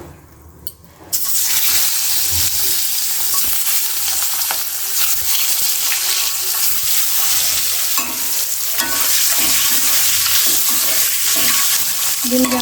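An egg frying in hot oil seasoned with turmeric, chili and salt, a loud close sizzle that bursts in after a quiet second and crackles steadily throughout.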